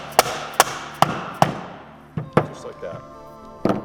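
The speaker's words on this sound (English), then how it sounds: "take a socket like this, a deep well socket that has a bigger diameter than this, so we don't ruin the threading, and we're going to tap it on" A deep well socket tapped onto a threaded part of an exercise bike or elliptical, four sharp, close knocks in a quick row followed by a few more spaced hits, with a short spoken remark between them.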